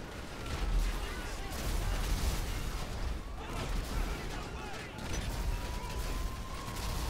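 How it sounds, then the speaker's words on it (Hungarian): Explosions and bursts of gunfire from the video game GTA V roar continuously and densely across the whole stretch, loud and dense with no pauses. "Túl sokat robbantottam magam mellé."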